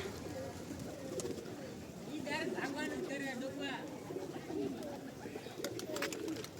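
Pigeons in wooden nest boxes give repeated, rolling low coos, several birds close by, over a constant background hum.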